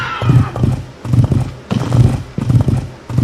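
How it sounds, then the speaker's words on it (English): Video game horse trotting over when called, with a steady rhythmic clip-clop of hooves and snorting, loud and close throughout. "So you can call your horse. And he'll come to you whenever you need your horse."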